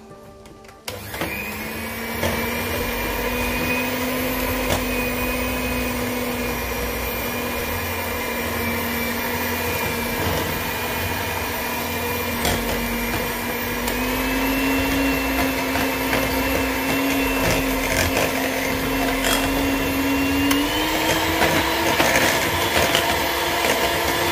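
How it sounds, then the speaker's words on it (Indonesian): An electric hand mixer beats steamed cake batter in a bowl until it turns pale and fluffy, giving a loud, continuous whirring drone close by. The pitch rises slightly twice as the speed changes, with no talk. "Setelah itu kita mixer sampai putih dan mengembang."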